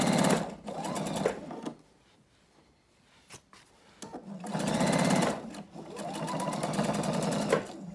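Sewing machine stitching through layers of denim and batting for a raw-edge strip quilt block, running in two loud bursts with a quiet pause between them and no talking.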